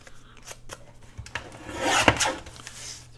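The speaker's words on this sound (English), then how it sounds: "So I'm going to cut that off so that I don't" Scissors snipping through a paper flap on a file folder journal insert, a few soft cuts and rustles close by, building to a crisp snip near the middle.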